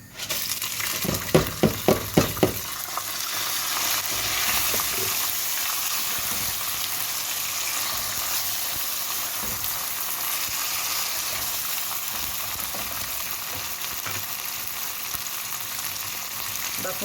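Vermicelli and rice frying in a pot, opening with a quick series of clinking stirs against the pot, then a steady, fairly loud sizzle with occasional faint scrapes.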